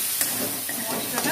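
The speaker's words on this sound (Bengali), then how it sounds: "মশলাটা কষে নেব।" Ground coriander, turmeric and cumin fry in a pan for a traditional Bengali fish-head muri ghonto, giving a continuous close hiss and sizzle over its short span.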